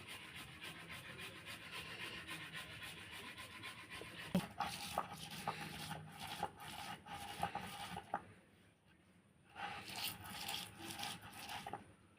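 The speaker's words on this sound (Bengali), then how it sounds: "টমেটোটা চুরানিতে আমি এইভাবে চুরিয়ে নিচ্ছি" A tomato is rubbed against a hand grater in a home kitchen while a Bengali fish curry is being prepared, making rhythmic rasping strokes up close, with a brief pause before the scraping resumes. No one speaks.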